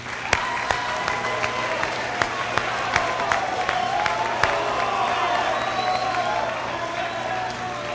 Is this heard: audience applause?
yes